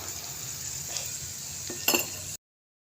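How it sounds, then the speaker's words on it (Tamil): Steady sizzling of tomatoes sautéing in oil, with a few soft stirring scrapes and a brief clatter near the end before it cuts off. "இப்போ தக்காளி போட்டு வதக்கலாம்"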